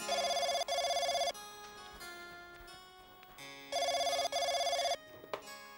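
A telephone bell rings twice, each ring a loud double burst of rapid trilling, separated by a quiet pause with faint background sounds.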